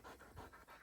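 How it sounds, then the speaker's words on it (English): A dog on a farm pants in quick rhythmic breaths, about five huffs in under a second, close and faint. "There's Paige, the dog."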